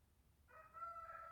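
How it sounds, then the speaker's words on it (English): A rooster crows once in the distance outside, a faint, drawn-out call that stands alone over quiet background noise. "sorry, the roosters are, I'm telling you, Mike. They're on cue."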